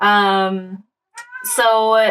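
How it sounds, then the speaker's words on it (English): A house cat meows in two drawn-out, harmonic calls, close and fairly loud, separated by a brief pause with a short sound between them, while a voice speaks briefly. "That's my cat"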